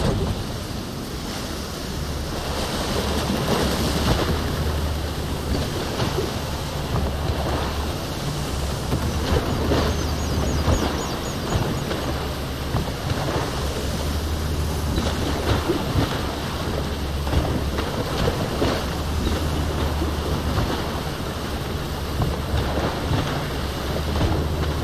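Ocean waves surge and wash continuously around a boat sailing on open water in Horizon Forbidden West, a full, roaring rush with low rumbling swells and wind, loud and steady without any talk.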